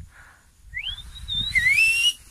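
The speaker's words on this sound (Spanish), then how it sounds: "Ay, chifla más duro." A person outdoors during a harvest day lets out a single rising, sliding whistle that grows louder and ends in a held high tone, heard at moderate distance over a low rumble.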